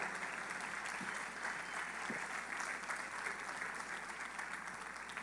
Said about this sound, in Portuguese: Nós vamos receber com uma salva de palmas nossos atletas aqui hoje.